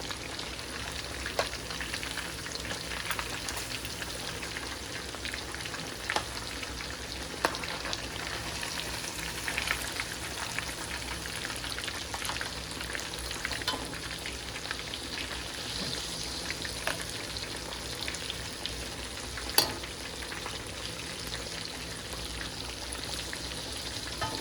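Fish frying steadily in a pan, a continuous soft sizzle and crackle for the whole stretch with faint scattered pops and no talking.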